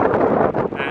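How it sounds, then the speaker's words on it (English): Strong wind batters the microphone beside the river at the old port in Quebec City, a loud, steady roaring rush that fills the entire short moment. "It's really windy."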